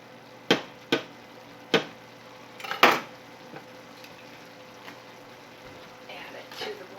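A knife chops through braised shaak roast meat on a board, giving four or five sharp, separate knocks with a short cluster near the middle, close and clear, followed by quieter kitchen handling.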